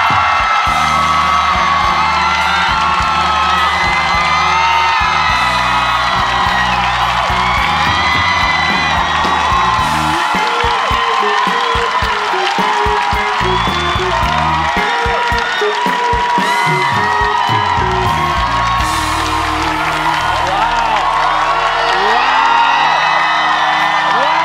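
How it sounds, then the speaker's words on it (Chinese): A studio audience bursts into loud, sustained applause with whoops, yells and cheering that carry on without pause as a guest, Taiwan's president Tsai Ing-wen, walks onto a talk show set. "让我们掌声欢迎蔡英文。"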